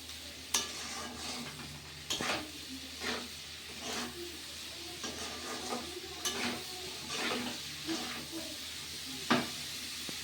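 Onions with salt are stirred in a pan for a mutton dish, with a steady low sizzle and hiss broken by repeated scraping strokes of a spoon against the metal at an irregular pace, close and moderately loud.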